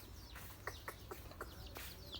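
Chickens at a rural homestead give a few short, clucking calls spaced irregularly over a steady low background, fairly close and moderately loud, with no talking.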